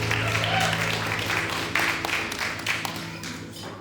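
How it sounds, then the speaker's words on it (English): Wedding guests at a reception applaud the bride and groom, a steady wash of clapping across the room that slowly thins toward the end, with a low hum underneath and some voices mixed in. "Once again, a big round of applause for our bride and groom"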